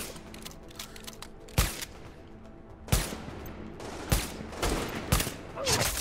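Sniper rifle shots in the video game The Division, four loud sharp cracks spaced a second or more apart over a busy backdrop of distant gunfire and game ambience.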